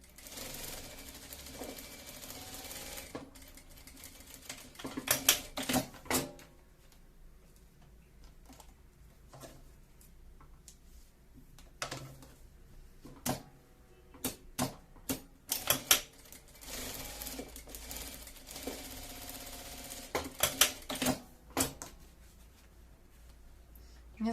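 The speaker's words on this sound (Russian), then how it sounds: "пойдемте на швейную машинку." A domestic sewing machine stitches a fabric face mask in several short bursts of rapid, rattling needle strokes, separated by quiet pauses and handling noises, close and fairly loud.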